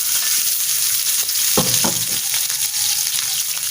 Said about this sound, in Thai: ใส่กระเทียมลงไปเจียว ใช่ใส่กระเทียมเจียว นะคะแป๊บเดียวก็เหลืองหอมเลย ไฟแรงดีมาก